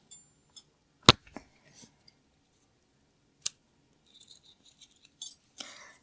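Scissors trim crochet yarn on a small fruit-slice keychain. A few sharp, isolated snips and clicks come close up with quiet gaps between them, and no one speaks.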